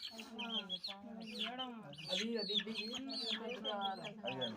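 Country chickens in a village cluck and call in quick repeated bursts close by, with a person talking faintly underneath.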